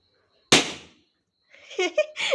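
A balloon bursts with a single sharp, loud pop close by, its crack fading quickly into silence before voices start talking.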